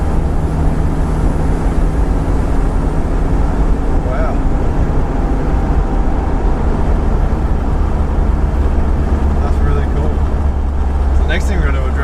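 A Toyota 2L-TE turbo diesel in a Toyota Surf runs hard on a dyno, making a loud, unbroken low engine roar with a thin turbo whine on top and voices at times beneath.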